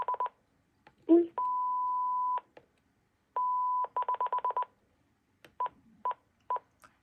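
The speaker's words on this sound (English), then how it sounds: "non-English languages use beeps instead of voice prompts" A series of electronic beeps from a Panasonic KX-TG9344 cordless phone in place of voice prompts: short tone bursts, two long sustained tones, and quick runs of rapid beeps separated by brief silences.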